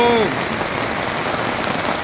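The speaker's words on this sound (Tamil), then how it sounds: "நம்ம நாகபுரத்தில் நல்ல மழை பெய்யுதுங்கோ" Heavy rain pours steadily over a garden grove in Nagapuram, a dense, continuous hiss of drops hitting surfaces close by, with a brief higher tone at the very start and no talking.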